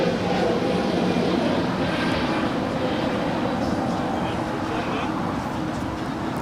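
A Polar Air Boeing 747-8 cargo jet powers up for takeoff at Los Angeles airport, a loud continuous broadband engine roar holding steady throughout with a dense low rumble.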